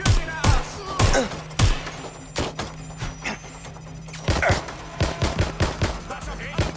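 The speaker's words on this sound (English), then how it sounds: "They're shooting at us." Gunfire in the video game Watch Dogs: Legion, loud close shots in uneven bursts and single cracks, rapid clusters toward the end, with game voices speaking between them.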